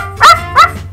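A dog gives two loud, close, sharp barks about a third of a second apart, alone with no talk.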